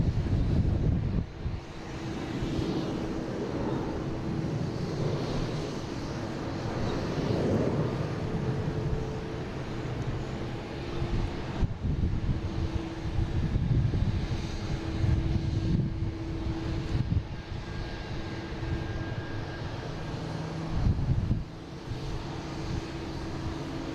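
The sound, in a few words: Embraer E-175 airliner, flight 5620 from Cincinnati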